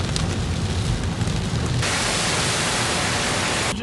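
Steady rain falling outdoors during a Florida iguana hunt, a dense, even hiss that holds at constant loudness throughout, with no voices.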